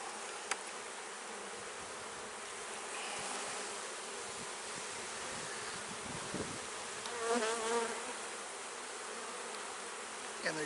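Honey bees buzz steadily inside an open beehive whose frames are starting to fill with nectar, a close, continuous droning hum with small swells and no talk.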